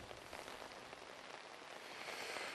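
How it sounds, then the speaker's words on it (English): Heavy rain pours down outdoors during UK flooding, a soft, continuous wash of rain hitting surfaces that swells slightly toward the end. It sounds fairly faint and distant, with no talking. "The rain is really pouring down."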